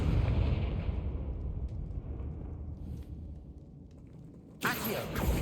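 A Confringo blasting spell explosion in the Hogwarts Legacy video game: a loud, rumbling blast that decays slowly over several seconds, then a sudden sharp burst near the end.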